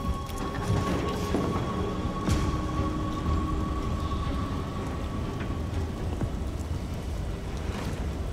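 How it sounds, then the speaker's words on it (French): Steady rain in the video game Detroit: Become Human, a continuous broadband hiss with low rumbling underneath and faint background tones, holding at an even level throughout with no talking. "Ça va, il pleut."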